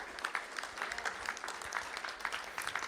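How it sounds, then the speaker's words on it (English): An audience at a school board meeting claps in a short, steady burst of applause, moderately distant and fairly quiet, with no talk over it. "Let's have a round of applause."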